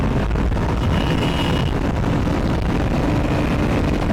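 A Royal Enfield Himalayan 450 motorcycle ridden hard, its steady engine roar blended with heavy wind buffeting throughout, with no voices.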